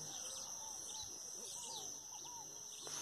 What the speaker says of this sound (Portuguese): fica aí um pouquinho aí com o canto dos passarinhos aqui no sítio